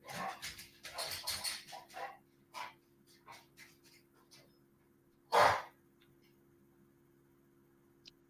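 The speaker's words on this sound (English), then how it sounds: "I wish I knew how to get my dog to stop barking at everything that goes on outside." A pet dog indoors lets out a cluster of sharp, close barks and yelps, then softer whimpers and panting, with one loud isolated bark near the end over a low steady room hum.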